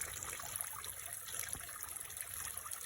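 Steady, soft trickle of falling water from a small aquarium waterfall, continuous and close by with a faint hiss, no voices.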